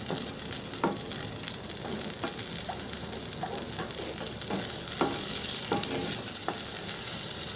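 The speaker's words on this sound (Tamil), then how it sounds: "இது நல்லா கொதிச்சு வரட்டும்." Cabbage manchurian sauce cooking in a pan, a steady low bubbling and sizzle with scattered clicks of a spoon against the pan, close and even throughout.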